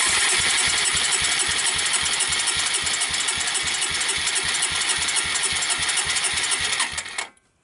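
A Suzuki Quadrunner LT160 ATV engine cranks steadily on its electric starter for about seven seconds, a loud, fast rhythmic chugging with mechanical whine, before cutting off abruptly; no one talks over it.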